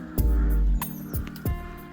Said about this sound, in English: You can certainly hear the crows.